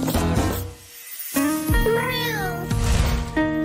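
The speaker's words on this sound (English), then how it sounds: "Meow." A cartoon cat meows in a children's animated story: two drawn-out, sing-song meows with a short gap between them, loud and close, with no talking.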